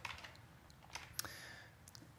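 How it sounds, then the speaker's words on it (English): Numbers tapped on a computer keyboard's number pad: a few soft, scattered key clicks over a faint background hum, with no talk. "if I type in a number"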